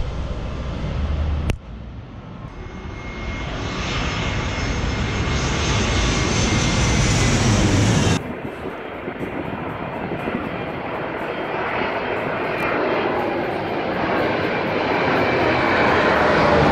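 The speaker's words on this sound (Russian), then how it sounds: "О, самолетик пошел еще." A small airplane passes overhead on a San Diego street, its engine a steady, fairly loud drone that holds throughout with a brief break partway, heard alone without talk.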